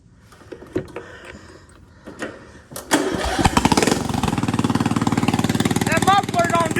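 A Bolens lawn tractor engine with a homemade exhaust and muffler cranks after a few quiet knocks, catches, and settles into a loud, rapid, steady running chug, close up, with a voice over it.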